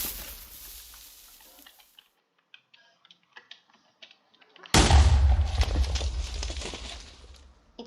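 Grub TNT from the Minecraft TooMuchTNT mod: a rumbling blast fades into a run of sparse small clicks and pops, then a second loud explosion bursts in with deep rumble and crackle until the end.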